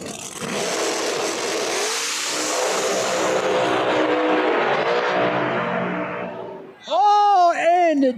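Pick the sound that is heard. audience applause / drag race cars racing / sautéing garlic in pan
drag race cars racing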